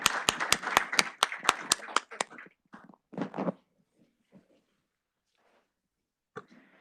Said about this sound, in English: Can we have another round of applause for our performers?